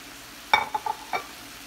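Chicken lands in a pan of frying sauce for tinga de pollo, giving a brief burst of sizzle followed by a few short scraping stirs, close and alone.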